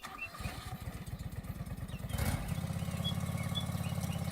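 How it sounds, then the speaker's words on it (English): An old John Deere lawn mower engine cranks with rapid chugging pulses, catches after about two seconds and settles into a steady, buzzing idle, close and moderately loud. "That sounds like an old John Deere lawnmower."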